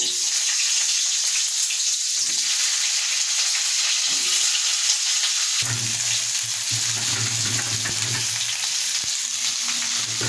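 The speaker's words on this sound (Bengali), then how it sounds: "আমি কড়াইতে প্রথমেই আলুগুলোকে ভেজে নেব।" Potato pieces fry in a kadai with a loud, continuous sizzle that shifts midway as the pieces are stirred or turned, close and uninterrupted by speech.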